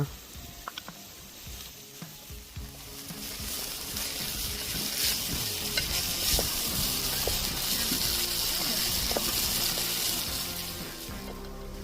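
Mushroom pieces fry in a pan for a mushroom chilli dish, a steady broadband sizzle with clinks and stirring knocks near the start. The sizzle holds loud and continuous throughout, with no talking.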